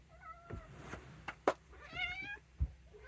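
A cat meows several times indoors, the calls close and fairly soft, with a few short thumps and bumps in between.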